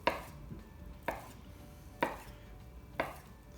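A knife slices through mozzarella on a cutting board, making four evenly spaced, crisp cuts about one second apart, close and clear with no talking.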